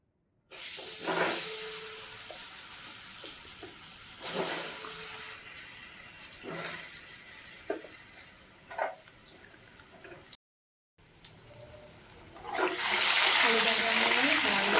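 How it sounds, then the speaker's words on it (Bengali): Potato pieces rubbed with turmeric and salt drop into hot oil in a wok, giving bursts of loud hissing and sizzling that settle into a quieter fry, then swell again near the end. "আলুটা এবার কড়াই দিচ্ছি"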